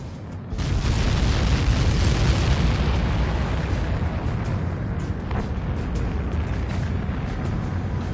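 A missile strikes its target in the Ace Combat 7 jet combat game, setting off a loud explosion that opens into a long, dense roar and rumble, sustained for several seconds before easing slightly.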